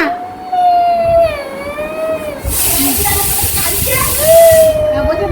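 A pressure cooker whistles loudly as it releases steam while curry cooks at home, a steady whistle that dips and rises in pitch over a sharp hiss, with people talking nearby.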